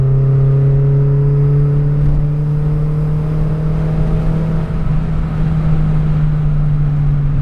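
Car engine under ECU fuel tuning on a standalone TunerStudio setup, running rich, holds a loud steady drone with slowly rising harmonics as throttle is held and nudged higher, close up and without talk.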